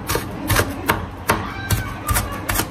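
A knife chops onion finely on a board in a home kitchen, a series of crisp, close taps in uneven bursts of two or three strokes with short pauses between them.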